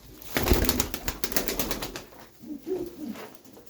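Several tumbler pigeons cooing close by in low, throaty calls, with a burst of rustling and fluttering near the start.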